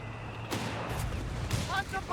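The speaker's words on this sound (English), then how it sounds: "Mortar fire rain down lightly, hitting absolutely bugger all." Mortar rounds landing in the game Company of Heroes 3, with a few dull thuds and broad blasts over a steady battlefield rumble, scattered and fairly distant, plus brief metallic pings near the end.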